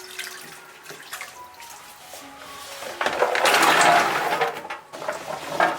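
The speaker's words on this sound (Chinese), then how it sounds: "把乌兰放进来搓洗。" Chinese black olives rubbed and washed by hand in thick starch water, with close wet squelching, swishing and sloshing that swells into a louder churning burst midway, no speech.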